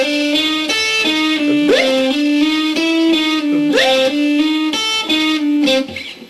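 An electric guitar plays a repeating, evenly timed pattern of plucked chords and notes with occasional slides, imitating the steady tick of a metronome, loud and close with no talking, ending in a fade.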